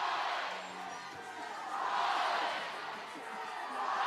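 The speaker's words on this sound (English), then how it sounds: "The crowd's getting more and more animated as the weekend's gone." Crowd noise at a college softball game between Texas A&M and Texas, swelling waves of cheering and murmur from a distant stadium audience, rising and falling over a few seconds.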